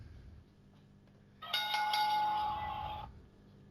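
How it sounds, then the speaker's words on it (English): A wrestling ring bell rings once with a bright, sustained clang that lasts about a second and a half before fading, heard against near silence. "You may begin at the sound of the ring bell."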